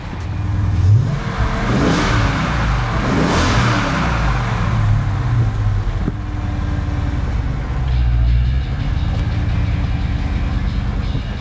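A rare Dodge Challenger R/T with the Hemi engine revs loudly and close by, its deep exhaust rising and falling in a few strong blips before settling into a steady rumbling idle, with no voices.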